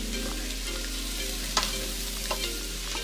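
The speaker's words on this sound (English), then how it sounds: "chopped up garlic. Give that a good stir in" Chopped garlic sizzles steadily in a hot pan for a sweet chilli sauce while a utensil stirs and scrapes through it, with a few sharper knocks against the pan and no voices.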